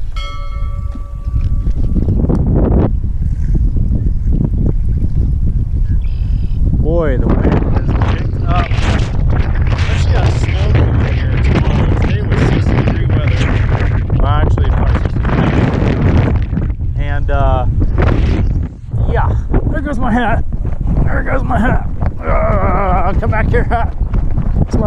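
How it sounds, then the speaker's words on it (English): Strong wind on open water during a bass fishing trip, roaring steadily across the microphone with a loud, constant low rumble while someone talks over it. "the wind has picked up."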